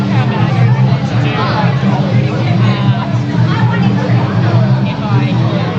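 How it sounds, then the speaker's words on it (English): A noisy crowd at a Queensland powerlifting state championship fills the space with a dense, steady murmur of overlapping chatter and voices. "it's because the crowd's real noisy"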